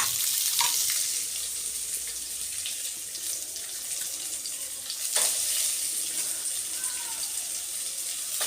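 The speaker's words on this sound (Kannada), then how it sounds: "ಸ್ವಲ್ಪ ಆಯಿಲ್, 1 ಸ್ಪೂನ್ ಕೊತ್ತಂಬರಿ ಕಾಳು, ಆನಿಯನ್ ಎಲ್ಲ ಹಾಕಿ ಚೆನ್ನಾಗಿ ಬಾಡಿಸ್ಕೊಳ್ಳೋಣ" Oil, coriander seeds and onion sizzle in a pan while sautéing for a masala paste. A steady, close hiss continues throughout, with faint scraping and stirring noises and no talking.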